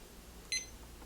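A SousVide Supreme cooker gives a single short, high electronic beep as its start button is pressed, faint and quick over a quiet background hum.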